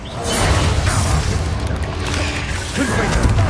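The Confringo explosive spell cast in the video game Hogwarts Legacy, a loud booming burst with mechanical rattling and whooshing layered on a continuous dense roar of battle effects.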